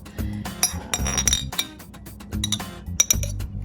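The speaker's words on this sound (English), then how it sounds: "I'm getting a spoon, so sorry." A spoon is fetched in a home kitchen, producing a series of bright metallic clinks and rattles against glass dishes and cutlery in irregular bursts, close and fairly loud, with no talking.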